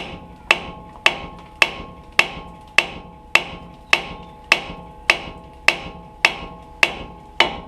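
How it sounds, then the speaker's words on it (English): A hammer pounds a stubborn steering knuckle on a GM truck during an upper ball joint replacement, a dozen evenly spaced, sharp ringing metal strikes, close and loud, each with a short metallic decay. "with enough pounding on the knuckle, it will break free"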